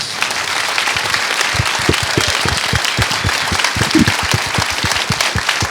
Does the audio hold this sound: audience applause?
yes